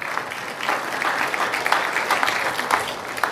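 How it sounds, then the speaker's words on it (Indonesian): A church congregation applauding, a steady wash of many hands clapping together at moderate volume for several seconds without pause. "Oke, tepuk tangan."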